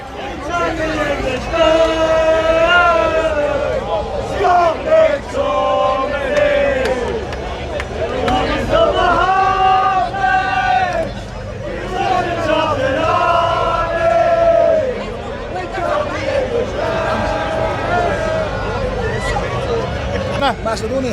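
Thousands of Scottish Tartan Army football fans fill a city centre with loud, continuous crowd noise, chanting and singing in sustained swells with shouts rising above the babble throughout.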